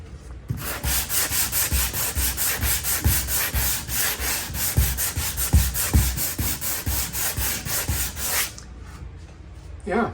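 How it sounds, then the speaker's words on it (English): Steady back-and-forth hand sanding of dried spackling on a wall, rapid rhythmic scratchy strokes continuing for several seconds before stopping, close and fairly loud. "let's get to sanding it"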